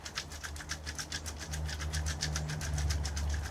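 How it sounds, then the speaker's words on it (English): A garden sieve is rattled to sift compost, producing a rapid, even rhythmic shaking and scraping that is close and continuous and grows slightly louder, with no voices. "So rattling it like that, keep turning it around and pitching it at different angles."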